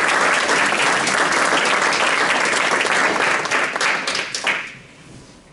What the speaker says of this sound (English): give yourselves one more round of applause.